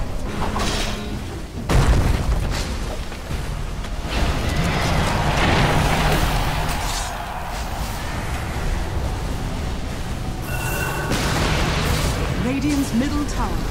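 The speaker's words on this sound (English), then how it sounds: "middle tower has fallen" A tower being destroyed in a Dota 2 match, deep booms and crumbling blasts amid layered battle effects, with an announcer voice over the game sounds.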